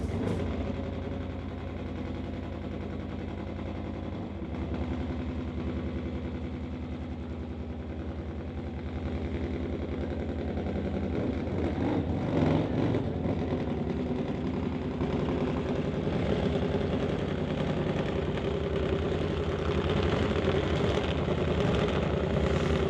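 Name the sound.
drag bike engines idling at the start line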